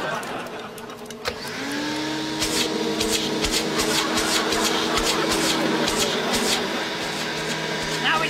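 A vacuum cleaner starts up and runs steadily with a droning motor whine drawn through a hose set out to suck in bees, loud and continuous with a few clicks.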